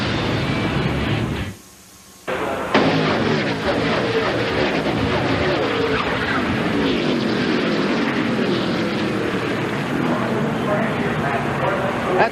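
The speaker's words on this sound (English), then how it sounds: "That's what a wreck sounds like from up close." A NASCAR Winston Cup wreck at Pocono Raceway heard up close: a roaring wash of engine and crash noise cuts out briefly, then surges back loud and continuous as cars thunder past.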